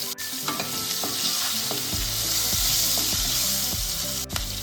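Hot oil tempering sizzles and crackles loudly as curry leaves, crushed garlic and green chilli hit the pan for a Kathiyawadi gathiya curry, a continuous close frying hiss with popping bursts.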